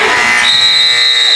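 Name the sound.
basketball game end-of-quarter buzzer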